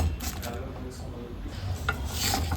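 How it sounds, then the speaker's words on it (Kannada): A ladle scrapes and rubs against a pan as dry fish fries, soft repeated stirring strokes over a low sizzle, close but fairly quiet. "2 ಸೌಟಿಂದ ಚೆನ್ನಾಗಿ ಮಿಕ್ಸ್ ಮಾಡ್ತಾ ಒಂದು 10 ನಿಮಿಷ ಆದರೂ ಫ್ರೈ ಆಗಬೇಕು"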